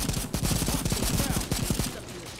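Rapid automatic weapon fire in the Cepheus Protocol video game rattles continuously in close, evenly spaced shots, loud and sustained for a couple of seconds before easing off.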